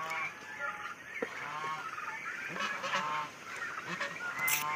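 A flock of turkeys on a farm, a few months old, calls in overlapping honking, gobbling bursts that come and go nearby without pause.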